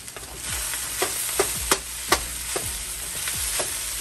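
Seafood fried rice is stirred in a hot sizzling pan, with rhythmic scraping strokes of a utensil about every half second over a continuous close frying hiss.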